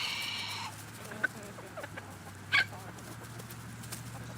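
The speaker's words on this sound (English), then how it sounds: "Some chickens, guys." Chickens on Kauai, Hawaii, out among island birds at a feeding, giving a few short scattered clucks and calls over a low steady outdoor hum, one call notably sharper and nearer, with no talk.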